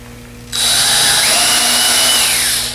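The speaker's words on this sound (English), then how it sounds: "drill a hole in it" A power drill bores a hole in a part from a DIY canoe-kayak build kit, starting abruptly and holding a loud, steady high whine for about two seconds before easing off at the end.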